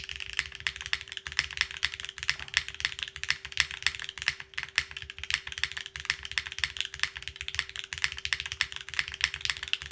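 Typing on a Capy60 R2 mechanical keyboard with a slappy spacebar, a fast, continuous stream of crisp, close key clacks with occasional deeper spacebar thocks, steady and alone.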